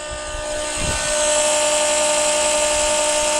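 Fuel transfer pump filling two nearly empty equipment tanks with red dyed diesel, a loud steady high-pitched motor whine that starts after a brief thump and then runs on evenly, close and with no talking.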